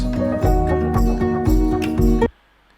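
Loud, full-band music with a steady beat plays, then stops dead, leaving near silence for the last half second.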